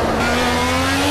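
A race car in Project CARS holds a loud, steady engine drone under acceleration for about a second, with no speech.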